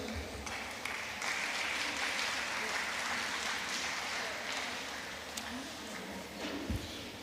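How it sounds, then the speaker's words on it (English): An audience applauds at an NBA Women Forum gathering, a continuous wash of clapping with a few sharp individual claps standing out, and faint voices mixed in beneath. "Please, another round of applause for the chairperson of the MBA Women Forum, please."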